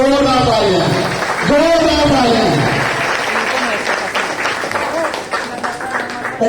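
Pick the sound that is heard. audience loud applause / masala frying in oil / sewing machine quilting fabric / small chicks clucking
audience loud applause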